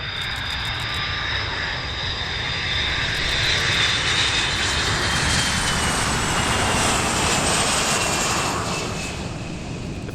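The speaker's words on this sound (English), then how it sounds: "The KC-135 has been the backbone of US aerial refueling capability for many decades" Engines of a KC-135 aerial refueling tanker at the Oshkosh airshow roar steadily and loudly, a broad jet rush that swells slightly mid-pass and holds, with no voices.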